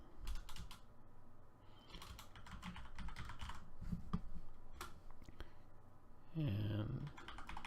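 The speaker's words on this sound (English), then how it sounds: "Now I have to type in the account that I have in GoThru, and I'm just gonna type it." Fingers typing on a computer keyboard while entering account details, a steady patter of quiet, close key taps with small pauses and a couple of firmer clacks, continuing for several seconds with no talk.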